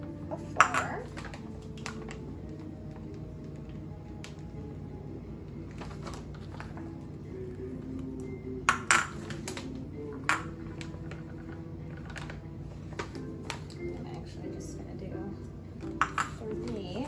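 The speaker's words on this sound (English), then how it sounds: "let's mix our flour, our sugar, and our baking powder" Flour, sugar and baking powder mixed in a bowl for yellow cupcakes, with scattered clinks and taps of a utensil against the dish under a steady low kitchen hum.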